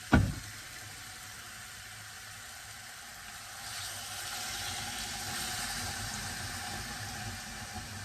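Water pours into a pressure-cooker pot of homemade Nepali mutton curry seasoned with chilli powder, opening with a clunk before a steady close-up splashing hiss that swells midway and keeps running.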